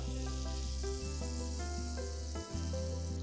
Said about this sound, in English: Let's melt some butter